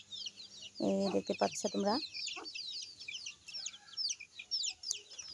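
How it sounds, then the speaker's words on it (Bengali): Small native desi chickens, about ten of them, cluck and chirp nearby in a busy, overlapping chorus during morning feeding, while someone speaks briefly over them. "দেখতে পাচ্ছ আমার ছোট মুরগিগুলো এসে পড়েছে"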